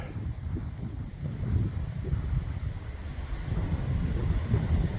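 Gusty wind buffets the microphone outdoors at an abandoned mine site, a loud continuous low rumble that swells and eases with no other clear sounds.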